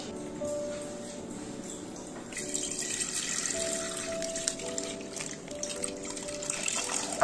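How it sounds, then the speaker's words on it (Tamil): Milk pours steadily into a pan while kulfi ice cream is being made, a continuous close liquid splashing and trickling that swells slightly partway through, with no talking. "பாலை ஊற்றலாமா? ஊற்றலாம் வாங்க."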